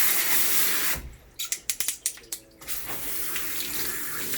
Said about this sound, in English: don't be afraid to get right in there with the sprayer